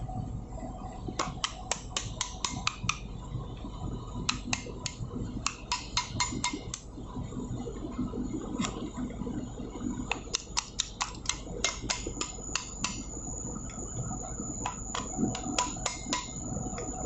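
A tool works a locking plate loose from a main engine starting air valve on board a ship, giving clusters of quick, sharp metallic clicks and taps. They come in bursts with pauses between, over a low, steady engine-room hum.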